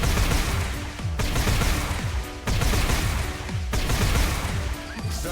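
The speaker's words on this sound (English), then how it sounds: "I guess I have to pull the trigger on the Static Shock and deal 400 damage to the opponent's" A Static Shock spell from the card game Legends of Runeterra lands as dense, crackling electric bursts, roughly four loud repeated blasts in quick succession.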